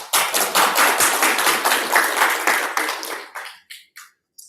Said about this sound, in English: I will give a round of applause to them anyway